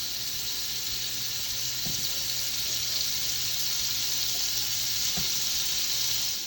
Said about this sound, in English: this is a critical step to sizzle it up on all sides as evenly as possible